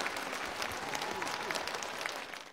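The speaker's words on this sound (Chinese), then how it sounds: "掌声有请。" An audience applauding to welcome guests onto the stage at an international fashion festival show, a dense burst of clapping that tapers off near the end.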